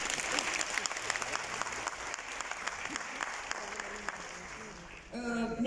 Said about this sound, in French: je propose qu'on applaudisse ce technicien.